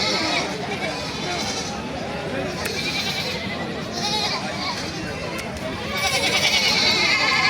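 Many goats bleat over one another at a crowded rural livestock market in Ranisankail, Thakurgaon, a dense, continuous chorus of near and distant cries mixed with steady crowd chatter and voices talking.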